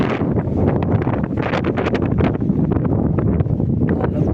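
Powerful summer windstorm wind blasts steadily, blowing dust, heavy rumbling gusts battering close by with a constant roaring rush and no talking.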